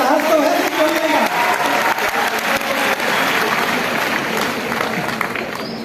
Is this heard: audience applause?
yes